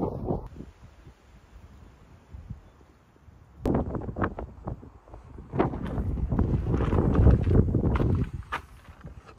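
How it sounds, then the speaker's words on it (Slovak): Strong gusting headwind buffets the microphone of someone walking outdoors, with rumbling bursts that swell and fade, louder in the second half, together with crunching steps. "A hlavne aj kvôli tomu vetru. Je to hodne nepríjemné. Celý čas fúka takto oproti mne."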